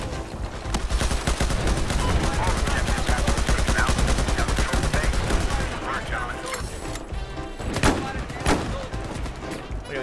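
Rapid gunfire rattles through a Battlefield-style military shooter, a dense stream of automatic shots for several seconds, then a few louder isolated bangs over background battle noise, with a player talking at times.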